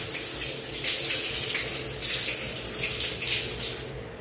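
Water gushes loudly from a newly connected house tap in a close, strong, continuous stream that surges and eases a few times, with no voices.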